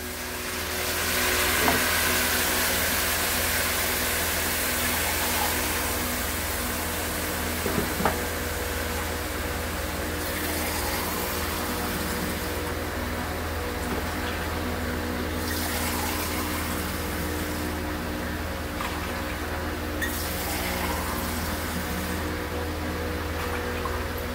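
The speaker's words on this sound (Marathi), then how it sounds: "आता आपण याच्यात पाणी ॲड करूया।" Water poured into a pot of veg pulao, a steady rushing, hissing flow lasting throughout, loud and close with a constant low hum underneath.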